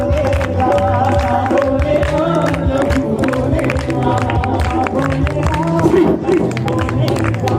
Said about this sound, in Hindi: सब जन ताली के साथ